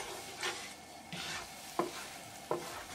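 Cumin seeds frying in melted butter and olive oil, a low steady sizzle broken by a few stirring sweeps and two sharp utensil knocks against the pan, close up with no voices.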